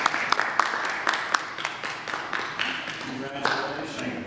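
Wedding guests clap after the couple's kiss at the end of the ceremony: a few sharp claps, then a softer spread of applause beneath cheering and voices.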